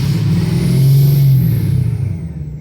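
A car engine revs hard up close, its deep roar swelling to a loud peak and then easing back down as it settles.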